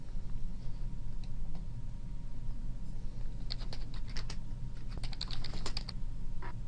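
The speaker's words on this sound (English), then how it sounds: "or type in comments" Comments are typed on a computer keyboard in a quiet room, light scattered key taps at first, then a quicker flurry of crisp clicks close to the microphone.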